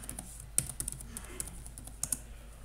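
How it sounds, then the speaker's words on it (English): A password is typed on a computer keyboard during an Ubuntu release upgrade: a short burst of quick, uneven key clicks, close and fairly quiet, with a couple of sharper taps standing out. "Then you're going to type in your password."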